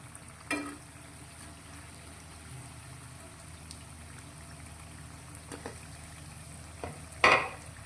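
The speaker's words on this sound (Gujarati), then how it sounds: "બનાવેલા બીજા નાસ્તાને પણ આપણે તળી લઈશું" A snack of raw potato deep-fries in oil with a low, bubbling sizzle, broken by a few sharp stirring clinks and a louder scrape near the end, no voices.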